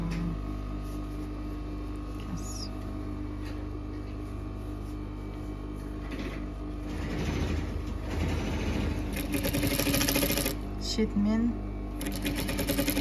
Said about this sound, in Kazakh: Қайып тігіп атырмын.